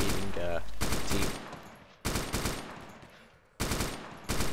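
Gunfire in the video game ArmA 2 comes in three sharp bursts of rapid automatic shots, each decaying into echo, with someone talking briefly before the first burst.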